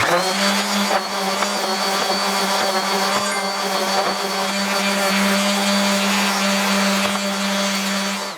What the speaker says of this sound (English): I'm gonna get these pieces a quick sand before I put them on though